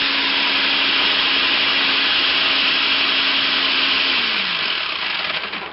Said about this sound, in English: I'm using the shredding blade on the Black & Decker.